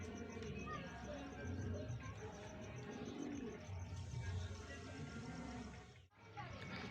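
Pigeons coo faintly in a loft, soft low calls sitting under a steady background hiss that runs throughout and briefly dips near the end.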